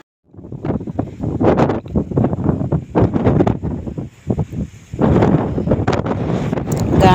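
Strong wind gusts buffet the microphone at the hilltop Shivappa Nayaka fort in Shivamogga, Karnataka, loud rumbling bursts rising and falling for several seconds, with only a brief lull before a final heavy blast.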